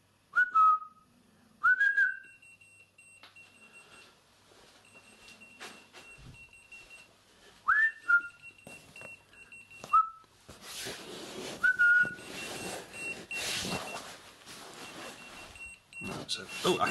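A person whistles several short, sharp rising notes to set off a key finder keychain that responds to claps or whistles. The whistles come in isolated bursts with pauses between them, over faint background noise and a thin steady tone.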